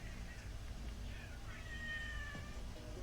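A kitten meows several times in drawn-out, rising cries over a steady background hum, with some voice-like noise underneath.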